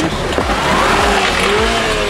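A Toyota Prado 150 SUV on winter tires speeds off-road between trees, its engine roaring steadily and close with rising, shifting tones and rumbling bumps throughout.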